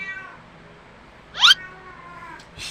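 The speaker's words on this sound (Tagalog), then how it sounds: "Yung alaga mong pusa ang ingay-ingay." A single cat meow rings out clearly midway, with a fainter second mew at the end over a quiet background.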